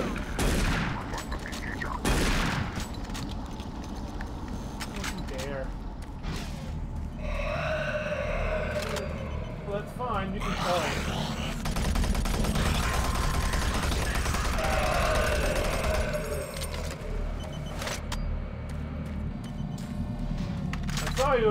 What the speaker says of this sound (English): I know I'm just gonna use my shotgun now